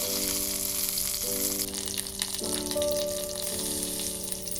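Curry leaves sizzle in hot oil with mustard seeds and dried red chillies for Kerala-style tomato rasam, a steady, close crackling hiss that runs throughout beneath sustained musical tones.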